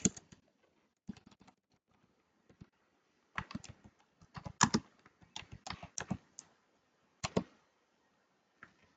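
Keys clatter on a computer keyboard while text is entered into a Canva design, coming in short bursts of rapid taps separated by pauses, close and fairly quiet.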